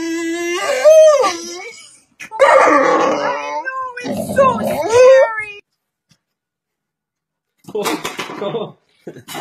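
A dog whimpers and whines in loud, wavering, howl-like bursts, three long cries followed by a pause and then a shorter one, up close.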